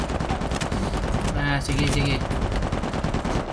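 Automatic gunfire blazes through a firefight in the video game Uncharted 4, dense rapid bursts filling the whole stretch at steady loudness, with a voice speaking briefly over the shooting.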